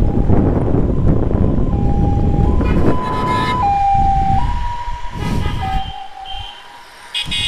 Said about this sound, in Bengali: ওই মামা সাইড দেন, অ্যাম্বুলেন্স অ্যাম্বুলেন্স।